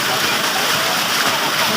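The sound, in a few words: water gushing out of a tubewell pipe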